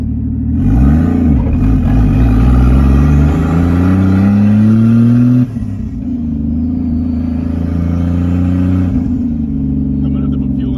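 A Lexus IS300 fitted with a 1JZ engine drives close by, its loud, steady engine drone climbing in pitch through the gears with a brief drop at a shift, and people talking over the engine.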